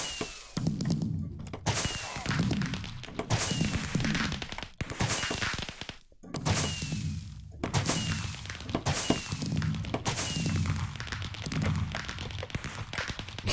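Repeated firework blasts burst during a Minecraft village raid, coming as loud, sharp bangs every second or two, each one trailing a crackling decay, with no voices over them.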